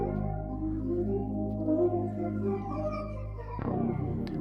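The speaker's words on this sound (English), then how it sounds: "I'm gonna play the sample out, and this is what it originally sounded like at first" Original music sample for an FL Studio beat, playing unaltered before any tweaking: sustained layered tones with a steady low bass, continuous and fairly loud, shifting to a new chord near the end, with no voices.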